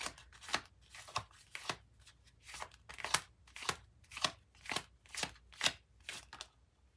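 Epiphany tarot deck cards being shuffled, a steady series of about a dozen crisp riffling bursts in an even rhythm, close and fairly quiet with no talking.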